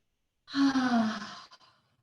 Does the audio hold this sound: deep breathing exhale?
yes